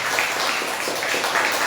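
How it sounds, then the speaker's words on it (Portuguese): A church congregation applauds, a dense steady wash of many hands clapping at moderate distance throughout, with no clear pauses. "Você pode aplaudir o nome do Senhor?"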